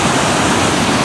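The Congburn River in flood roars over a storm-damaged waterfall beside flooded woods, a loud, steady, unbroken rush of water with no voices.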